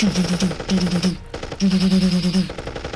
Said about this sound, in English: you hear the sound of explosions and machine guns being fired